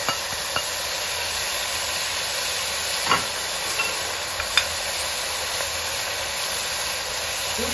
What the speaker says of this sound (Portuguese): Já tá refogando, eu vou colocar a pimenta do reino, o sal.